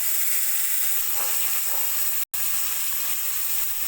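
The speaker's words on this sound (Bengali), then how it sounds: "কড়াইতে তেল দিয়ে এবার আমি মাছগুলো ভেজে নেব।" Fish sizzles in hot oil in a kadai, giving a steady, close, hissing fry that runs without pause apart from one brief dropout. No voices are heard.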